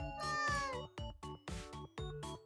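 A cartoonish cat in the video game Cat Snap meows in a quick series of about five distinct mews, the first drawn out and the rest short, clear and alone without speech.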